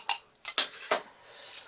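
A spatula scrapes thick hot-process sulfur soap with bentonite clay and activated charcoal out of a metal pot, giving three or four short, sharp metallic scrapes close by, followed by a softer rasp.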